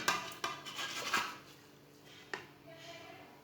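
Pieces of chicken dropped into a cooking pot, a few distinct clattering knocks and scrapes of metal followed by quieter stirring and shuffling, close and fairly soft.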